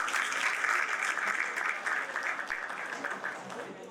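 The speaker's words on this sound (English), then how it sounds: "I want you to give all yourselves a round of applause" Sustained applause from a crowd at an alumni reunion in Karachi, many hands clapping steadily at an even level for several seconds.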